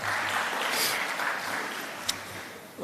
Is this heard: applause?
yes